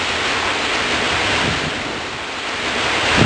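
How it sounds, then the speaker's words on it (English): Steady, dense wash of heavy rain in a rainstorm, a continuous broadband roar that holds at an even, loud level throughout with no voices. "Imagine a rainstorm."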